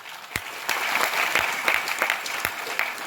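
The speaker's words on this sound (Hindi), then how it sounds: "ताली बजाइए इसके लिए" Applause from an audience at an RCM business meeting class, a steady wash of hand claps with a few sharper individual claps standing out, moderately loud and close, without speech.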